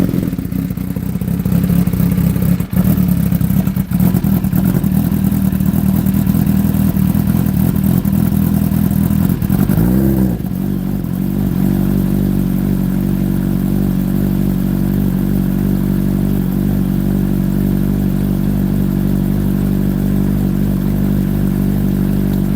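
A motorcycle engine cold-starts and settles into a steady, loud idle, a low rumbling drone with a brief stumble near the start and a clunk midway before running evenly.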